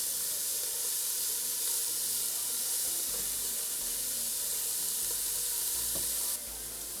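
Onions, carrots and celery sizzle steadily in warm oil in a pan for soup, a continuous close frying hiss with occasional stirring, no talk.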